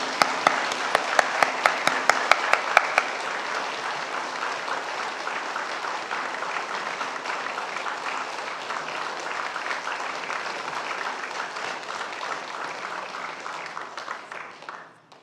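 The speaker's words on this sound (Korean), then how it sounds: "우리 주현도 목사님께는 감사의 박수로 목사님 환영하겠습니다" A church congregation applauds to welcome the pastor at a 70th-anniversary Sunday service: dense, steady clapping from many hands that holds for about fifteen seconds before tapering off at the end.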